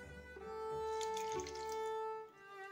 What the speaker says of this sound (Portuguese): Agora eu vou colocar isso aqui de água, ó.